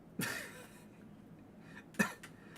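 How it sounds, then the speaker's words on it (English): Two short, sharp coughs from someone recovering from illness, spaced a couple of seconds apart, close to the mic, with quiet room noise between them and no talking. "I'm just getting over being sick, so I'm coughing a lot."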